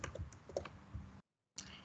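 Quick computer-keyboard typing, a run of light clicks and taps close by, then a brief silence before a few more keystrokes.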